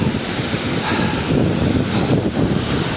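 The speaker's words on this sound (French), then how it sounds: "cascade de Bérard, elle est là." The Bérard waterfall, heard on a solo via ferrata climb, gives a continuous, dense roar of falling water, loud and near, steady throughout with no talking.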